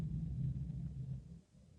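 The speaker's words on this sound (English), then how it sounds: "Oh, wow. There's like a storm coming here." A storm gives off a low, steady rumble, with a deep throbbing drone that shakes the windows. It fades and dips near the end, and no one speaks over it.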